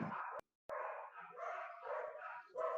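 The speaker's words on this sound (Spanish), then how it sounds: "tengo los perros ahí" Dogs bark in short repeated bursts, faint and somewhat distant, with a brief silent gap early on.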